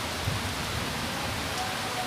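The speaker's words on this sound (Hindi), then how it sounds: "देखिए उधर में काफ़ी बारिश हो रहा है उधर में" Heavy rain pouring down outdoors, a dense steady hiss of drops hitting surfaces, continuous and even with no talk.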